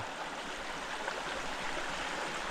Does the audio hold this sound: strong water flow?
yes